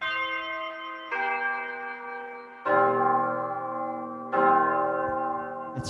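Big Ben church bell voice on a digital keyboard strikes four deep, resonant tolls, each one sustaining and decaying into the next, loud and alone.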